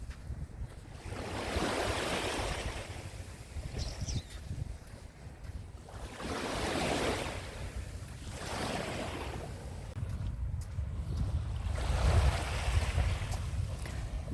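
Sea waves washing ashore at a Tel Aviv beach in the early morning, surging and receding in broad swells every few seconds, with steady wind buffeting the microphone and no voices.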